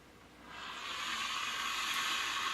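A steam iron hisses through a press cloth laid over knit fabric, a soft, steady rush of steam rising gently over the first second and holding evenly, close and quiet with no talk.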